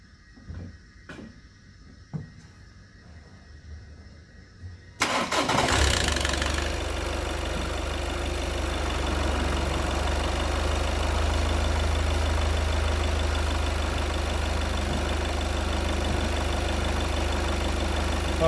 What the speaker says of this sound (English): now I'm going to crank the engine and you watch. Hopefully that will start quickly.